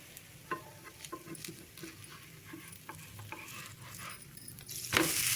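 Adai dosa cooking on a pan right after being flipped, a soft steady sizzle with small scraping and stirring taps, ending in a brief louder clatter near the close.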